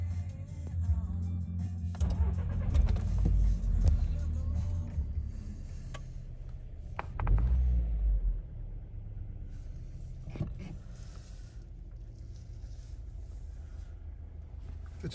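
A Skoda Yeti 1.2 with a 6-speed manual gearbox starts up, with a brief surge as the engine catches, then settles into a low, steady idle rumble that carries on alone with no talking.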